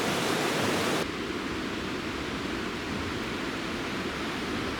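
Steady rushing of stream water at a creek crossing where East Creek joins Bubbs Creek in the Sierra backcountry, a broad continuous flow that drops slightly in loudness after the first second.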